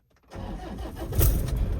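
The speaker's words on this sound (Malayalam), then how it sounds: "ഓക്കെ വണ്ടി സ്റ്റാർട്ടായിട്ടുണ്ട്" A 2015 Toyota Innova engine cranks and fires, rising quickly from silence into a steady rumbling idle, close and fairly loud.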